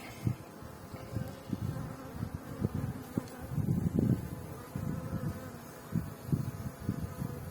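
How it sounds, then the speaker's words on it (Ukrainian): Honey bees buzz continuously around a beehive, many wings droning at once with a fluctuating, close hum and no talking. "Бджоли собі тут валять як"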